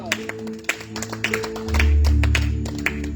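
A church congregation claps its hands for God with scattered, uneven claps, while a low hum swells beneath them partway through.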